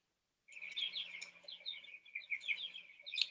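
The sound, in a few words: backyard meat and egg-laying birds calling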